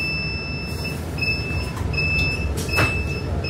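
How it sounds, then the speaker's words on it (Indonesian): Right-side door of a city bus at a Tegal Mampang stop on the inner-city toll road, with steady tonal door-warning beeps chiming repeatedly over a low engine rumble and a brief mechanical swish of the door moving. "Nanti pintu kanan kebuka dong."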